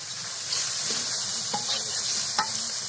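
Drumsticks and potatoes sizzle steadily in a frying pan, with a few distinct scrapes and clinks of a spatula as they are stirred; the frying is close and moderately quiet, with no voices.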